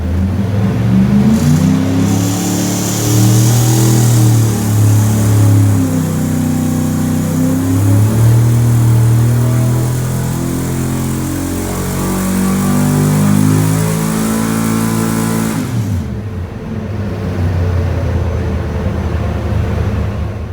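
A Mopar 360 small block V8 revving hard on a dyno during a full pull, a loud sustained roar rising and falling in pitch for about fifteen seconds before cutting back to a lower rumble.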